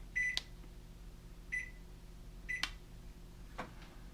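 A Maytag convection oven gives three short, bright control-panel beeps spaced about a second apart over a quiet fan hum, with light clicks between them.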